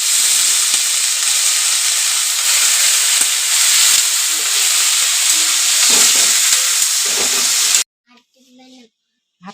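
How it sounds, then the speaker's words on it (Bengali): Potatoes frying in a pan give a loud, steady sizzle and hiss with a few stirring scrapes, cutting off abruptly near the end as faint voices take over. "এই তো আলুটা ভাজা করি"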